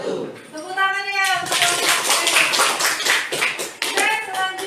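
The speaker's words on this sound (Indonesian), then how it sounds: "Tepuk tangannya." Classroom applause after a student group presentation, a burst of many hands clapping with children's voices before and after it.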